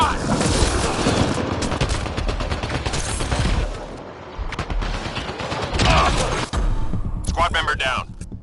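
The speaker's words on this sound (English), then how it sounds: "Incoming fire!" Incoming gunfire in Mass Effect Andromeda, a loud, busy stretch of rapid automatic bursts and crackling shots that rises and falls, with combat voices calling out over it.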